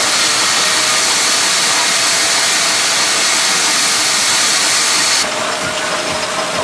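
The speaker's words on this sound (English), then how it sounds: "A very nice example of a Charles Openshaw foremost Fowler road loco" A Fowler steam road locomotive at a Bedfordshire steam and country fair gives off a loud, steady, broadband hiss and rumble, dropping suddenly to a softer hiss near the end.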